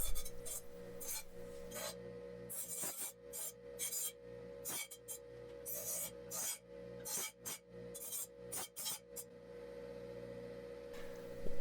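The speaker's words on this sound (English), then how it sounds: "Once I make my cuts, I'm just smoothing everything out on the grinder." A grinder smooths the cut ends of 1 inch square steel tubing for a coffee table frame, giving a faint, steady rasping hum broken by short bright scraping bursts, with a quieter stretch near the end.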